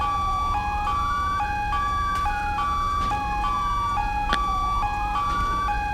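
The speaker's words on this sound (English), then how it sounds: "It's an ambulance running blue lights." An ambulance siren in GTA V with the LSPDFR police mod, running code 3 on blue lights, wails loudly and steadily, its rising and falling tone switching to a quicker alternating pattern, with a couple of sharp clicks and no talking.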